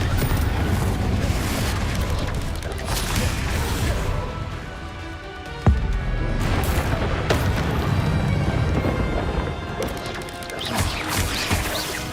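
Heavy booming crashes and rumbling impacts from a Descendo slam spell in Hogwarts Legacy, with dense, loud battle noise throughout and a sharp hit near the middle.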